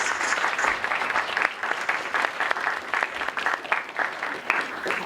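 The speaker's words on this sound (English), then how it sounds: "Round of applause for Dr. Brown." University class audience applauds a guest lecturer, lively continuous clapping with uneven individual claps and slight swells, fairly close and filling the room throughout.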